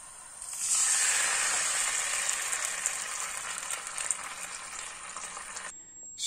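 Sausages sizzle loudly in a hot pan as tomato paste water is poured in for hot dog sandwiches, giving a steady hiss that holds for about five seconds and then cuts off abruptly.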